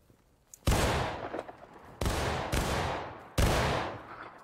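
Musket volleys in the Civil War game War of Rights, three or four loud, sharp rolling blasts, each trailing into a long echoing decay, close by with no talk over them.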